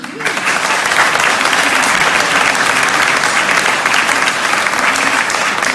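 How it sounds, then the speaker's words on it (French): A church audience applauds Jean-Paul, a pastor honoured as an example, with steady, dense clapping that fills the room at full strength from start to finish, close and loud with no break. "Jean-Paul, on t'applaudit."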